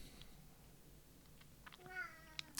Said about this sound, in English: Oh, cat's come in to... let me introduce you to my cat, Joni.